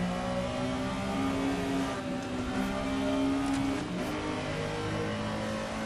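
Porsche 911 RSR with a rear-mounted six-cylinder engine, driven at Mugello in Assetto Corsa, revs in a continuous loud engine whine that rises and falls slightly, with no talk.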